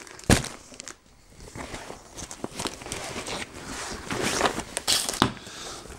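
Plastic shopping bags unpacked indoors, with close rustling, crinkling and scattered sharp handling knocks, uneven in loudness over several seconds.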